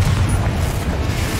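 A Confringo fire spell blast from Hogwarts Legacy gives a deep, rumbling boom that holds steady and loud through the short moment, with no gap or separate impact.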